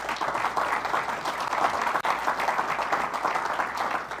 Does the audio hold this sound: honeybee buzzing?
no